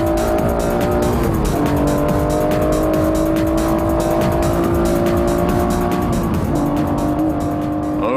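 Honda NSX-R at full power on the Nordschleife, exiting Hatzenbach: a loud, continuous engine howl with steady rising harmonics, heard from onboard with no talk, holding high revs throughout.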